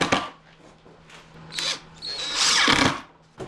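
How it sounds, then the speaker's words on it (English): A power drill drives screws into the top of a wooden crosscut sled for a table saw in a small shop, giving short close whirring bursts of moderate loudness with brief gaps between them. "And I can finish setting my screws in the top."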